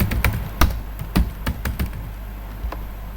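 Code being typed on a computer keyboard, a quick run of separate sharp keystrokes set close to the mic. The taps are uneven, with a short gap before the last few presses, and nobody speaks.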